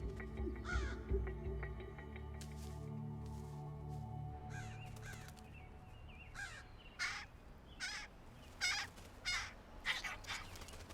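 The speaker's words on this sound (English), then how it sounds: "Crows have different warning calls, one for cats and one for hawks and another for humans." Crows giving harsh warning caws, several sharp calls in uneven bursts that grow more frequent toward the end, heard at moderate distance over a low rumbling background.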